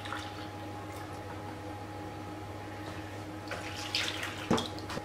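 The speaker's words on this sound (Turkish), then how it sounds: "1 su bardağı da süt ekliyorum." Milk pouring into a bowl of pizza dough mixture that already holds warm water, a steady liquid trickle over a low constant hum, brief splashes near the end.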